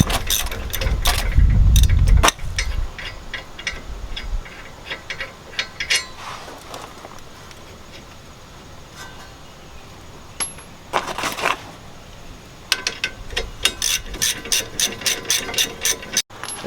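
Hand ratchet clicking in quick bursts while brake bolts are backed out on a 2016 Ford Transit van's rear brakes, with a heavy clunk near the start and pauses between bursts, close and fairly loud in a quiet workshop.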